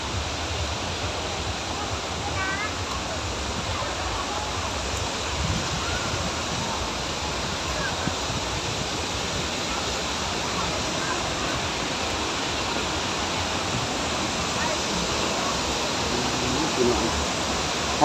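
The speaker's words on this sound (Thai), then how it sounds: "น้ำตกตัดเลาะพี่น้อง" Tad Lo waterfall in Laos, with a steady, dense roar of rushing water that fills the scene evenly and never lets up.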